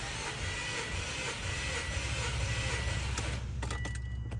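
A 2003 Subaru WRX engine cranking on the starter during a compression test on cylinder 3, a steady loud churning drone that cuts off near the end, with no talk.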